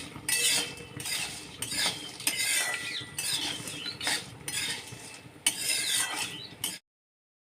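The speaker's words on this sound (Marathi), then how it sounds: "आता त्याच्यामध्ये मी शहाजीरं घालत आहे आणि लवंगा ते पण परत एकदा सगळं छान भाजून घेते" Whole spices, shahjeera and cloves, dry-roasting in a pan for goda masala, with continuous scraping and stirring rasps and light rattling, close and fairly loud, then an abrupt cut to silence.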